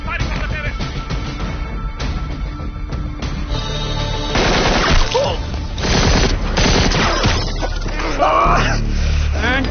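Sustained loud gunfire, automatic bursts and single shots overlapping in a chaotic exchange, with a few muffled voices mixed in.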